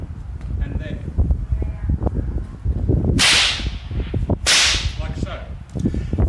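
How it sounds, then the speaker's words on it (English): A whip used in the Queensland crossover technique gives two sharp, loud cracks about a second apart, set against rustling and scuffing movement. "make sure that the whip cracks here in front of you, there and there"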